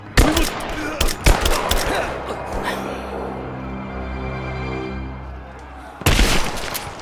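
Bursts of automatic gunfire ring out in a video game courtyard as prisoners are shot, loud rapid volleys at the start and again near the end with a humming gap between, and voices talking in places.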